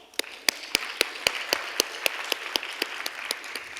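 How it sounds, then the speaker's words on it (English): An audience at a corporate panel session on employee experience applauds the organizers and panelists. The clapping is fairly soft and steady, with sharp individual claps landing at an even, almost metronomic beat over a thin wash of crowd noise. "A huge round of applause"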